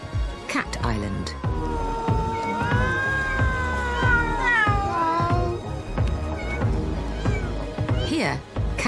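Cats on Aoshima Island, the Japanese Cat Island, meow loudly and insistently up close, several drawn-out rising and falling cries overlapping one another, with outdoor background noise beneath them.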